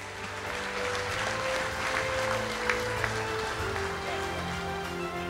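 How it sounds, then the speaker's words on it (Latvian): Applause from an audience at a sports awards ceremony honouring a region's athletes of the year, a steady broad clatter of clapping over a hall hum throughout, with a couple of sharper claps standing out. "Aplausi!"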